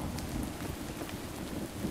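Rainfall in Minecraft, a steady dense patter of drops with a low rumbling undertone, continuous and fairly loud with no voices.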